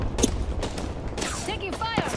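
Gunfire in Apex Legends: a few sharp bursts of shots mixed with game sounds under continuous voice chatter.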